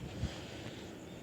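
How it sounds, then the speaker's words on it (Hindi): Strong wind buffets an outdoor microphone with a steady, close, low roar that swells slightly near the start and end. No one speaks. "और बहुत हवा चल रही है।"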